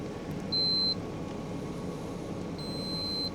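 A multimeter beeps while testing continuity on a remote-controlled battery kill switch, two short steady high-pitched tones, the second slightly longer, over quiet background hum.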